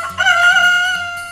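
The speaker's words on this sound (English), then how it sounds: "H for hen" A rooster crows once in a single sustained, loud call lasting about a second, heard up close with no talking, set against a low steady hum.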